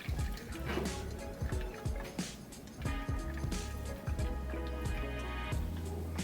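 Hot water from boiled potatoes pours and drips out in a kitchen, a steady wet splashing with scattered droplet taps and light clatter, fairly close and moderately quiet.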